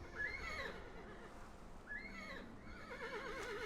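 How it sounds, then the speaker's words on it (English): Wild horses in a back garden neighing, two or three distinct whinnies with wavering pitch, fairly faint and heard at some distance, with no talking. "Taking pictures of the wild horses who happen to live in my back garden"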